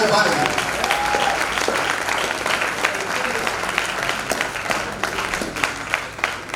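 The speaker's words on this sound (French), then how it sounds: "vos acclamations, vos ovations" A church congregation applauding and calling out acclamations at a worship service, sustained clapping mixed with voices throughout.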